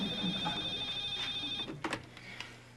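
A telephone rings with a steady electronic tone for about a second and a half, then breaks off into a few clicks and a short burst of handling noise as the receiver is picked up.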